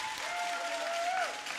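Steady applause fills a powerlifting competition hall at the World Open Equipped Powerlifting championships, the crowd clapping continuously at even loudness for the whole span, with a faint tonal whistle running beneath and no speech.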